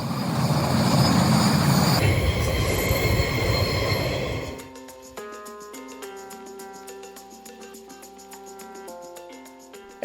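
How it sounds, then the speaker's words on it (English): Freight train carrying containers and logs passes on a railway line bound for the port of Tauranga, loud rolling rumble for the first four seconds, then sustained high, layered wheel squeal continuing steadily as the cars go by. "This railway line is a busy freight, so we frequently see trains with containers and logs heading to the port of Tauranga"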